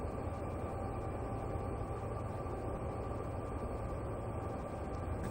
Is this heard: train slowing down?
yes